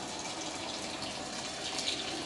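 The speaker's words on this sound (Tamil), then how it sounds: "அந்த டைமில் நம்ம வந்து தனியாக தண்ணியை இது போல் நல்லா சுட வச்சு இதில் ஊற்றிக்கலாம்." Heated water pours into a pot of masala for soya biryani as a steady, rushing gush that continues for the whole stretch, with no voices.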